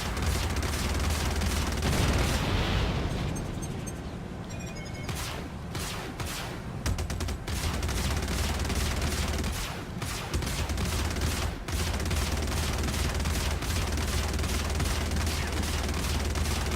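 Ship combat in the Star Citizen game, version 3.0: a dense, continuous barrage of weapons fire and booming impacts rolls on throughout, loud and unbroken over a low rumbling drone.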